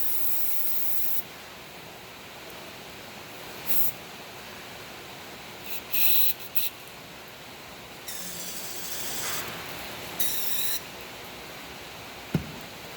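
Repeated hissing bursts from a spray can cleaning inside a multifuel injection pump, short and longer sprays separated by pauses over a steady background hiss.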